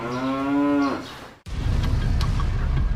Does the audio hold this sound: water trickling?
no